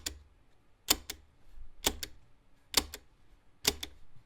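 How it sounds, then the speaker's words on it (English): Switches on a Selmer Zodiac Twin 50 guitar amplifier are flicked, producing four crisp pairs of sharp clicks at an even pace, close and isolated against near silence. "check out how clicky these switches are."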